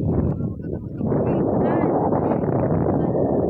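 Heavy wind by the sea buffets the microphone in a constant loud low rumble throughout, with a voice partly audible beneath the roar.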